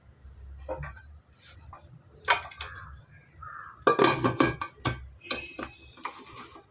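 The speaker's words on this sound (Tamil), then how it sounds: "இப்போ குக்கர் மூடி போட்டு மூடி விட்டுடலாம்." A metal pressure cooker lid is set on and shut while making mint rice, giving a close series of clanks, scrapes and clicks with short pauses between them, and no voices.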